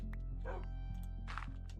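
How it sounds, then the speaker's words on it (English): A dog in the Minecraft video game gives a few short, soft barks and yips under a steady low game hum. "I hear another dog"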